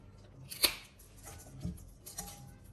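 Scissors cutting through dried lemongrass stalks, a few sharp close snips spaced apart over quiet background.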